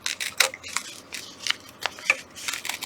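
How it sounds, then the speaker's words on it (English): Scissors snipping through string-pieced quilting fabric to cut out a circle, a series of short, crisp cuts and light rustling at close range, without talk. "all I'm going to do is cut the circle out"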